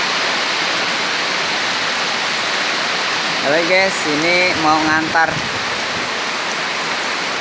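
Heavy rain pours in a steady, loud hiss throughout, with someone briefly speaking over it midway.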